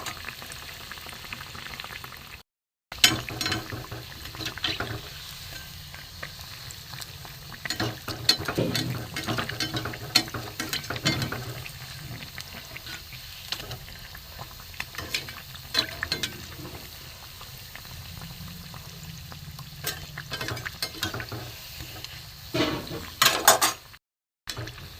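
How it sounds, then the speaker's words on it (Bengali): Bread-based sweets fry in hot oil for a Rakhi recipe, a steady, close bubbling sizzle running nearly the whole time, with occasional utensil clinks and scrapes as pieces are added and turned. "একটু লাল করে ভাজবো"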